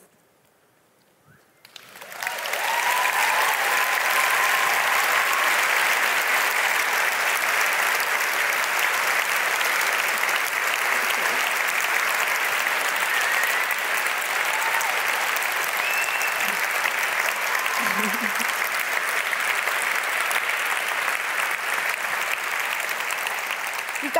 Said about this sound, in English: No more clapping, okay?